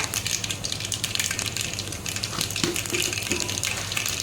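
Mustard seeds and cumin sizzle and splutter in hot oil in a home kitchen pan, a steady dense crackle with scattered sharper pops, close and continuous throughout.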